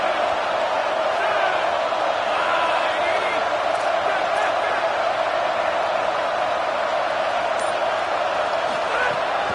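A packed NCAA football stadium crowd roars continuously to rally its defense, a thick, unbroken wall of noise with occasional shouts standing out, and a commentator's voice talks over it.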